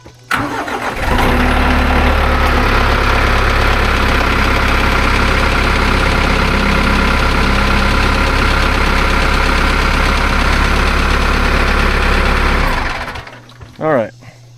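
Compact TYM 4815 tractor diesel engine cranks and settles into a steady, loud, close idle that runs for about twelve seconds before cutting off, with brief talk near the end.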